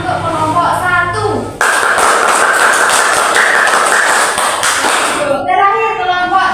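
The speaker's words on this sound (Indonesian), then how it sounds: "Tuh, tepuk tangan untuk kelompok 1." A classroom of children claps for the first group. Dense, loud applause fills the middle few seconds, and voices are heard just before and after it.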